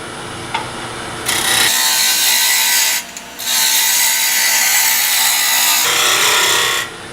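A wood lathe spinning a tool handle blank at steady speed while a spindle roughing gouge cuts it down, giving a loud, continuous near scraping and tearing of wood in long passes broken by brief pauses.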